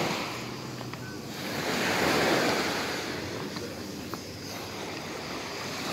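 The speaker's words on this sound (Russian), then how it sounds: "И вот, наконец-то, попали мы на море." Sea waves wash onto the sandy beach at Agia Marina on the Greek island of Aegina, a steady broad surf roar that swells and eases gently, with light wind noise and no voices.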